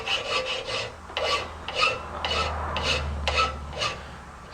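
A file rasps across the ends of metal tubing clamped in a vise to square them off, giving rhythmic back-and-forth scraping strokes, about ten of them at a steady pace, close and fairly clear, with no voices.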